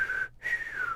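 A person attempts to whistle while wearing a face mask, giving two breathy, wavering whistled tones split by a short gap, close and fairly steady.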